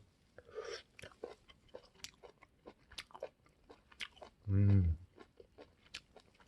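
Close, quiet chewing of a cooked surf clam, soft wet bites and crunches repeating at an uneven pace, with a brief louder vocal hum near the end.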